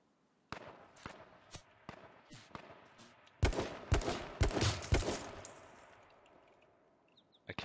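Video game gunfire: a series of sharp single shots spaced irregularly, growing denser and louder midway, each ending in a short decaying tail, with no talking.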